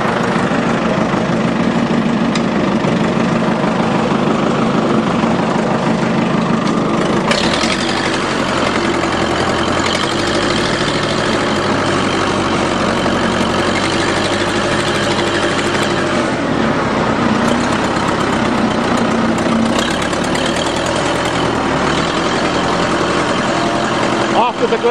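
A farm tractor that has sat for four weeks idles while warming up, then pulls away, a steady, loud, rumbling diesel engine whose pitch rises as it starts driving, heard close with someone talking over it.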